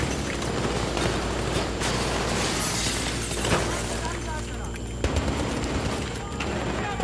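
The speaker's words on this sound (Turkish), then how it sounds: "bom bomba bitmiyor. Yeni bomba geliyor." Bombs and gunfire in the video game Battlefield 3, a dense, loud rumbling barrage of explosions and shots with sharp cracks standing out, over continuous low booming; someone talks over it.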